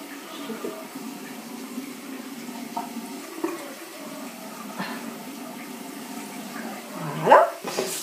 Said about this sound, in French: j'arrive au bout de mon rinçage